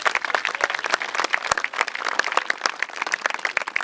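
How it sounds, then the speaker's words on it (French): A dance troupe applauding their choreographer, brisk crowd clapping with sharp individual claps standing out from the dense patter, close and lively throughout with no talking. "Je vous demande de l'applaudir"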